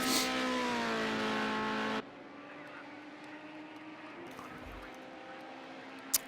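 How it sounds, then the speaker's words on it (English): A touring race car with a high-revving BMW engine screams loudly for a couple of seconds, then cuts abruptly to a much quieter distant engine drone. "These cars do sound absolutely awesome. They do. Really high revving"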